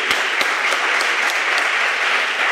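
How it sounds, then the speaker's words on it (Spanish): Steady, dense audience applause fills the whole stretch at a close, even level, with a few sharper individual claps standing out and almost no talk. "Un fuerte aplauso para Julio Ruiz"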